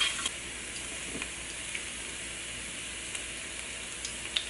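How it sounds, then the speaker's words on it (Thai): Garlic stir-frying in hot oil for pad see ew gives a faint, steady sizzle, with a few soft, sparse clicks of a utensil against the pan. "Stir fry garlic and oil"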